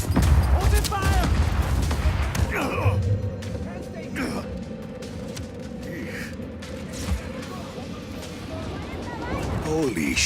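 Gunfire and explosions ring out during a firefight in the video game Just Cause 4, a dense continuous battle din with booming impacts, under shouted voices throughout.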